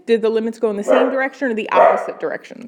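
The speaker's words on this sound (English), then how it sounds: "Sorry about the barking dog." A dog barks repeatedly in the background, partly masked by a person speaking steadily over it.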